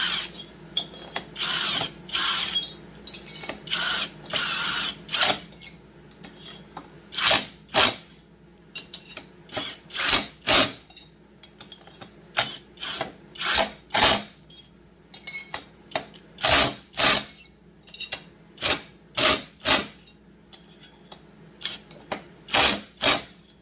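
Bolts are being started and tightened on a Stihl MS 661 chainsaw cylinder, heard as close, irregular bursts of metallic tool clicking and ratcheting with short gaps between them.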